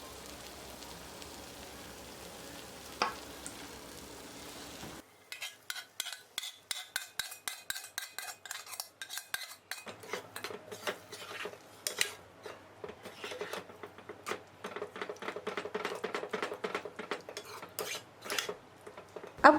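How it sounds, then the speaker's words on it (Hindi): Cooked dal being stirred into thick ghee-rich masala in a kadhai for dal makhani, giving a steady run of close metal scraping and clinking from the spoon against the pan, with no talk. "तो अब बारी है इसमें पकाई हुई दालों को मिलाने की। चलिए फिर मिला लेते हैं।"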